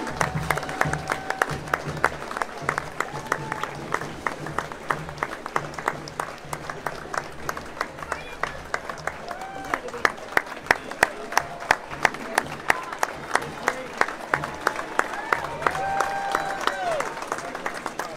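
Crowd clapping at an outdoor Christmas illuminations event, a steady patter of applause running throughout with scattered crowd chatter and voices mixed in.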